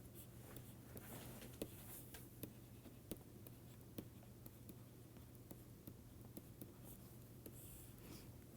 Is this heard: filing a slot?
no